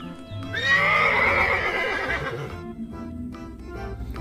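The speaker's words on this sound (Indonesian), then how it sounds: "ini ada induk kuda" A mare gives one loud, close neigh, a long whinny that rises and trembles for about two seconds, followed by quieter shuffling and faint hoof sounds.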